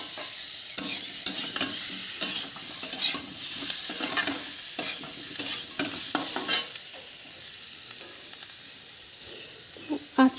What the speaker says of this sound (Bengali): হলুদ দিয়ে দেব, সব মিশ্রণ একসঙ্গে মিশিয়ে নেব।